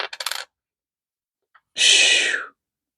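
Pennies being checked one at a time while coin roll hunting give a quick rattling clatter, then after a pause a longer metallic jingle of coins dropping, close and crisp with silence between.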